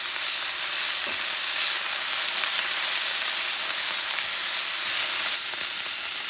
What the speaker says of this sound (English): Going to fry cook in less than 2 minutes overall.